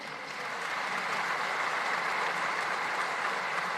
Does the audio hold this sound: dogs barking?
no